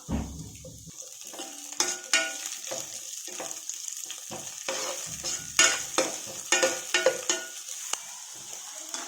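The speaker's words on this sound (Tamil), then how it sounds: "நீளமாக நறுக்கி வச்சுருக்கிற குடமிளகாய் அதில் சேர்த்து வதக்கிக்கலாம்" Sliced capsicum and onions sizzle and fry steadily in a pan, with the clink and scrape of stirring against the pan cutting in at irregular moments; close and fairly loud, with no voices.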